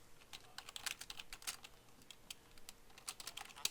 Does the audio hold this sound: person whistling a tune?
no